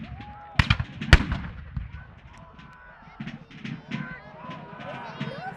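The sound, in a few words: cannon fire in a video game battle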